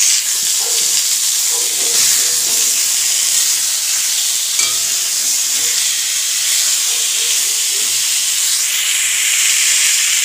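Chutney cooking in a pan at home, a loud continuous steamy hiss and sizzle with faint stirring and clatter underneath.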